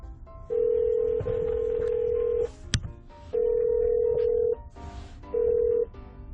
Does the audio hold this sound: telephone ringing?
yes